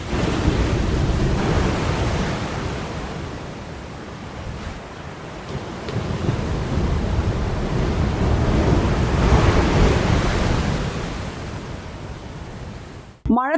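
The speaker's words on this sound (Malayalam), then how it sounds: "ജിയോ ബാഗുകളെയും മറികടന്നാണ് ഓരോ വീട്ടിനകത്തേക്കും കടൽ ആഞ്ഞടിക്കുന്നത്." Rough sea surging onto the Kannamali coast, washing past geo-bag barriers toward houses, in a continuous, loud, broadband roar of crashing surf that swells and eases over the span, with no voices.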